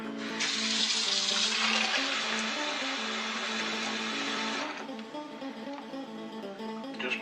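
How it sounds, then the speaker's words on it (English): Cold tap water pours steadily into a pot of brine for corned venison, a loud, close, continuous rushing gush that cuts back to a lower trickle near the end. "I'm going to top it off with just regular cold, clean water."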